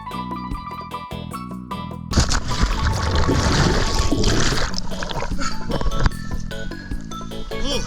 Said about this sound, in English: let's go down the water slides